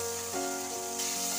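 Ginger and cumin paste sizzles in hot oil already seasoned with salt and turmeric, a steady, close hiss that flares slightly partway through.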